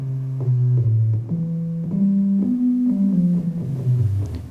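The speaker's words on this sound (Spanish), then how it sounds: "Fíjense que es mucho más suave, menos agresiva que la cuadrada." A synthesizer's sub-oscillator set to a sine wave, smooth and mellow rather than buzzy like the square wave, playing a short sequence of sustained low notes that step up and down in pitch, alone at a steady level with no talking.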